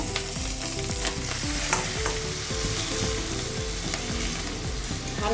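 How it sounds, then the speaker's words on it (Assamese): Dried fish and onion frying in a pan, with a steady bright sizzle and a regular rhythm of stirring scrapes close by throughout, and no voices. "পিঁয়াজৰ লগতে শুকান মাছখিনি ভাজা যাব"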